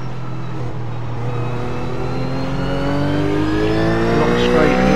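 Race car engine in iRacing at Road Atlanta, revving and climbing in pitch after a downshift, a loud continuous drone that builds steadily toward the end.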